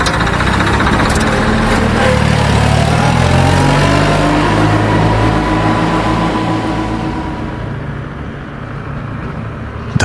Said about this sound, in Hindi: कुछ देर में वह ट्रैक्टर स्टार्ट करके वहां से चल देता है।